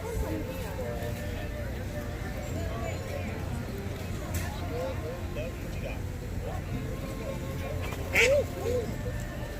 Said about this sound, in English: Had a little turf war going on there between a duck and a squirrel.